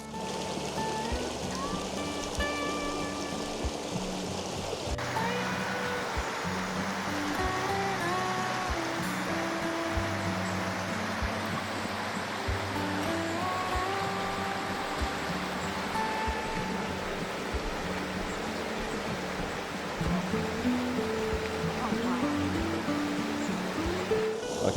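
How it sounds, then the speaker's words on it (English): A small waterfall and stream in the Peak District pour steadily over rocks, a continuous loud rushing wash close by that swells slightly near the end, with no voices. "it was just in and out of this little waterfall area here"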